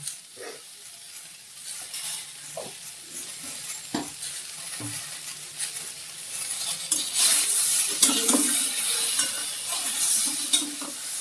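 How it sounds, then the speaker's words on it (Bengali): Ingredients for chhanar payesh fry in a pan. A soft sizzle swells louder partway through, with occasional scrapes and light metallic clinks from stirring, heard close up and without speech. "এগুলো ভালো করে ভেজে নিচ্ছি।"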